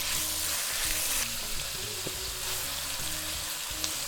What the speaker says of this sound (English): Give it a quick stir fry.